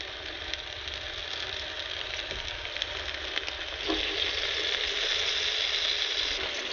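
Vegan scallops and vegan bacon sizzle in butter in a pan, cooked out of a car: a close, steady hiss with scattered pops and crackles that grows brighter and louder partway through.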